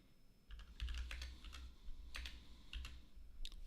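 Rapid keystrokes on a computer keyboard during a programming session, irregular clusters of light clicks, close and fairly quiet with no talking.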